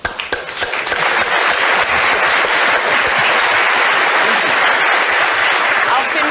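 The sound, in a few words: Someone clapping applause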